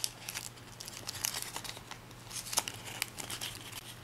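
Paper being folded and creased for an origami Pikachu bookmark, with soft crinkles and sharp rustling snaps up close, quiet and intermittent.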